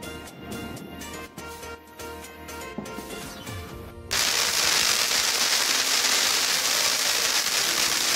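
Crackling Diwali firecrackers pop rapidly at first, then a loud, dense roar of fireworks and rockets bursts continuously, close and intense.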